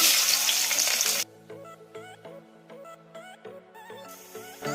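Peeled, crushed garlic hits hot oil with cumin for mint rasam, a loud dense sizzle for about a second that then cuts off, leaving a quieter melodic backing.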